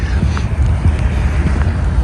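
Cold wind gusts buffet the microphone outdoors on a freezing morning walk, a loud, low, steady rumble with slight surges and no voices.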